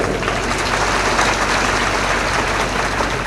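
Dense, loud crowd clapping at a Kumbh Mela spiritual discourse, a continuous rain-like roar of many hands sustained without pause and no voices.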